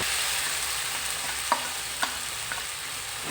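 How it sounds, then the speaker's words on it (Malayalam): Chicken roast with sliced garlic sizzles steadily in a frying pan in a Kerala-style kitchen, and a few distinct scraping strokes of stirring cut through the constant frying hiss. "ഇനി നന്നായിട്ട് ഇതൊന്ന് ഇളക്കി കൊടുക്കാം."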